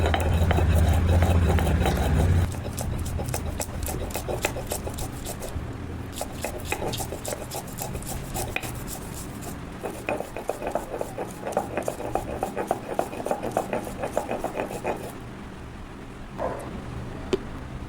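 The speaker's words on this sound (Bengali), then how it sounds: "আমি এখানে শিলে বাটছি" Spice paste ground by hand on a stone slab (shil) for a prawn dish steamed in bottle gourd leaves, a loud close rhythmic rasping and scraping that continues steadily, with a low rumble at the start.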